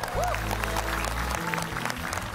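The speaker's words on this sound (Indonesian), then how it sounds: "Berikan tepuk tangan untuk mereka, yuk." A studio audience claps steadily and loudly, with a low hum running beneath the applause.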